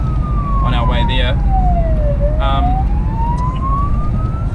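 A New Zealand police car siren wails loudly and continuously during a priority run down a motorway, slowly sweeping down and up in pitch over road noise, with brief bursts of chatter in between.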